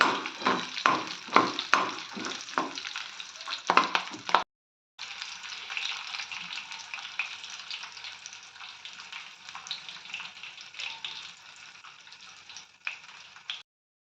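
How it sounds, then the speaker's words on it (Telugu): Split green chilies and dried red chilies sizzle in hot oil for a tempering, with steady crackling frying and occasional stirring, close and fairly loud, with a brief pause partway through. "ఇందులోకి చీల్చుకున్న పచ్చిమిర్చి రెండు ఎండుమిర్చి వేసుకోవాలి అవి కూడా కొంచెం వేగాక కొంచెం పసుపు యాడ్ చేసుకోవాలి"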